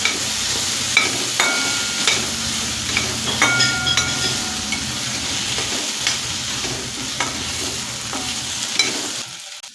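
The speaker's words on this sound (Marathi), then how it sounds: "आता टोमॅटो चांगलं मऊ होईपर्यंत आपण त्याला परतून घ्यायचं आहे" Chopped tomato sautés in a pan for Puneri misal, a continuous moderate sizzle broken by repeated metallic spatula clinks and stirring scrapes.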